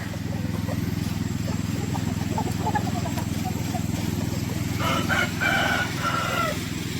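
Hens and roosters on a farm cluck and crow amid constant low droning background noise, with a rooster's call rising clearly near the end.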